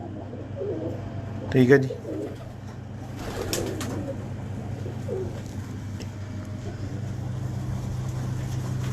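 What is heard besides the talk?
pigeons cooing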